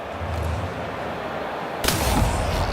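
Single sharp gunshot in a video game firefight, a loud sudden crack near the end following a low rumbling ambience, then a short decaying tail.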